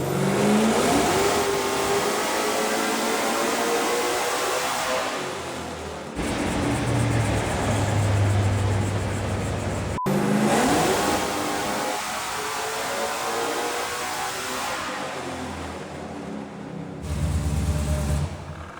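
A Toyota Supra fitted with a Hellephant V8 engine screams through repeated full-throttle pulls on a dyno, the engine note rising steadily, cutting off briefly, then climbing again, loud and close with no talk.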